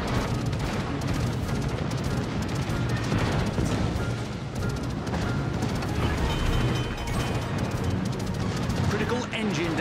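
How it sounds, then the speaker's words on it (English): Naval guns on the Visby ship pound a target in a game, with a constant barrage of booming shots and crackling explosions, loud and dense from start to finish, with a voice mixed underneath. "All stations, concentrate fire on that target."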